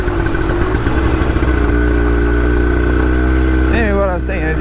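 A small two-stroke X-90 minibike engine idles steadily and loudly close by, with a brief revving blip near the end and no talk over it.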